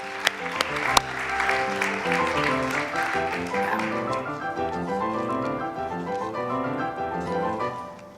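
An audience at a live poetry event claps steadily for a high school group, a sustained round of applause that runs the whole time at an even level, with a few sharp taps near the start.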